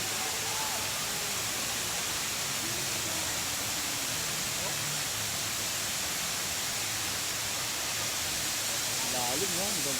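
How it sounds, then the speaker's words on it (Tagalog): Steady broadband rush of the Hinulugang Taktak waterfall in Antipolo, Rizal, a constant loud roar filling the whole clip with faint voices and birdlike chirps barely audible underneath. "Ito yung falls."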